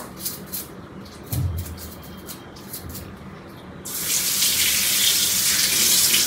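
Tap water gushes steadily into a washing machine being cleaned after dirt had blocked its water flow, starting after a few seconds of quiet handling noises and continuing loud and close.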